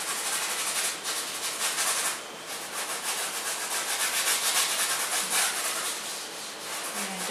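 A brush scrubs ultramarine blue acrylic paint onto a coated canvas, making a continuous close, dry rubbing hiss with short pauses between strokes.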